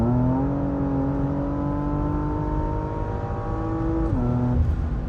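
A Porsche Macan GTS engine humming smoothly while cruising, a steady, fairly quiet drone that rises gently in pitch, dips briefly, then climbs again.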